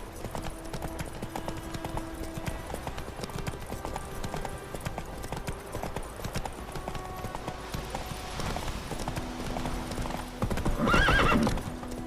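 Hooves of Roach, Geralt's horse in The Witcher 3, clip-clopping at a steady gallop through the game world, with a whinny near the end over a faint musical background.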